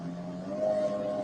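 A Ferrari engine, with the side seat removed so the motor sits exposed, gives a brief, steady, droning hum at a constant pitch, close and moderately loud with no talk over it.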